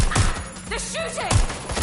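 Gunfire in the Call of Duty Black Ops 4 video game, with several loud sharp bursts at the start and again near the end. A voice and other game sounds carry on between the bursts.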